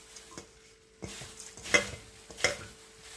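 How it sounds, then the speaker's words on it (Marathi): Poha chivda being gently mixed in a pan, a few soft, separate scraping and rustling strokes close by, quiet and unhurried. "नंतर छान हलक्या हाताने हे मिक्स करून घ्यायचं,"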